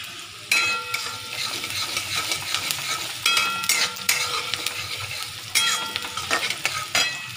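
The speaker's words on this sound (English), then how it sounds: "You just fry till it becomes little brown in color. Keep on frying." Chicken for hariyali chicken frying in mustard oil in a pan, with a steady close sizzle broken by several sharp bursts as the pieces are stirred and scraped, with no talking.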